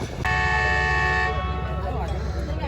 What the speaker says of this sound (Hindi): तो जी सांगला हिल से पहला डिपार्चर हॉर्न हो चुका है